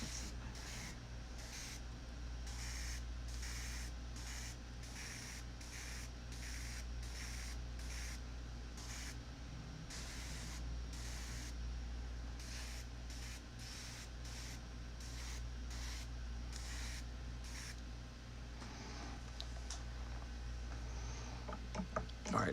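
An airbrush sprays paint over a stencil on an Evil Space Elf miniature conversion, giving many short, faint hissing bursts in an uneven rhythm over a low steady hum.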